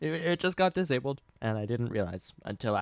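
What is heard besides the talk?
No everyday noises stand out.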